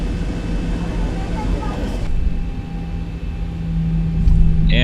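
A Boeing 737 in the ZIBO mod for X-Plane 11 taxis after the parking brake is released, a steady low engine drone and rumble holding throughout, with faint talk underneath.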